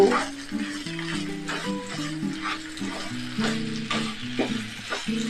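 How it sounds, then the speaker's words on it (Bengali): A spoon stirs amla pickle with a cup of sugar in a hot pan, soft scraping and a steady sizzle heard under gentle background music. "এক কাপ চিনি দিয়ে দিব। তারপর মিক্স করে নিব।"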